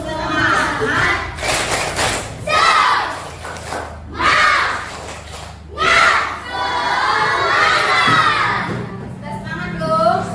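A group of children shout and cheer together in loud repeated bursts, with rhythmic clapping mixed into the crowd noise, doing a spirit-clap chant on a count of three.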